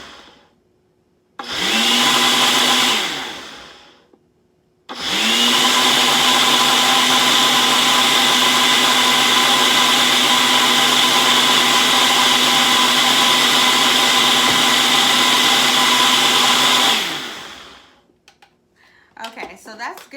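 A Ninja blender blends a smoothie in two loud bursts, a short one and then a long steady roar lasting about twelve seconds, with brief talk in the gaps.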